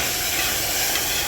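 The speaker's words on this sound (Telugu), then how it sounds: "మరిగించుకున్న చింతపండు గుజ్జు ఉంది కదా, ఈ తాలింపు అనేది దాంట్లో వేసేసుకోవాలి" A tempering poured into boiling tamarind pulp gives off a steady, close sizzling hiss that lasts the whole moment without a break.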